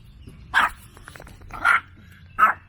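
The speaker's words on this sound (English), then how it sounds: "And this is why Twinkles is not a camping dog" A small dog barks at a campground, three sharp yappy barks spaced about a second apart, fairly close, over a quiet outdoor background.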